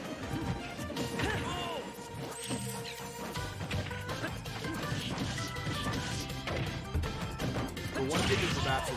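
Super Smash Bros. grand-finals match between Falco and Link with up smash attacks landing: repeated loud smashing hits and thwacks over busy game sounds and crowd noise, while commentators talk throughout.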